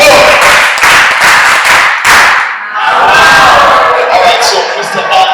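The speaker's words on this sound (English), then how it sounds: "Nigerian clap. 3, 2, 1, go!" An audience at a panel session claps in a fast, synchronized Nigerian-style rhythm, sharp unison beats that then break into loud cheering and shouting from the crowd.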